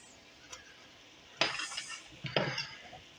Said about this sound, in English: We're going to stir that constantly